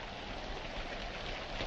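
Steady rain falling outdoors, a continuous even hiss of drops with no voices, moderately loud throughout.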